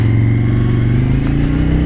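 An SM Sport V16 motorcycle pulls away, its engine running loud and close with a steady, slightly rising drone throughout.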